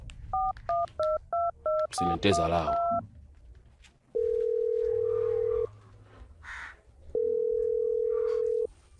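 A telephone keypad beeps out a quick run of about six dialing tones, then a brief burst of rapid tones, followed by two long, steady ringback tones separated by a pause, with a few spoken words in between.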